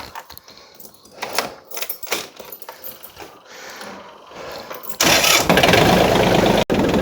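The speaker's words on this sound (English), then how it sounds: "This is our tractor. Need to get it started." Snowy-weather tractor engine cranks through a series of uneven bursts, then catches and settles into a loud, steady running roar that drops out briefly near the end.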